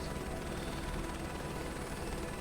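Steady, dense rotor and engine drone of a helicopter during crop dusting in Microsoft Flight Simulator 2024, constant and loud throughout with no talking.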